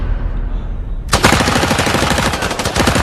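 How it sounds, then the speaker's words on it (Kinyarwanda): Loud automatic gunfire from an action film bursts in after about a second of quieter background and continues as a rapid, sustained rattle of shots with no speech. "Muri Afrika hahiye ni amasasu."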